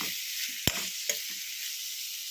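Small sambar onions fry in a pan with a steady, bright sizzle, broken by two sharp clicks of a utensil against the pan.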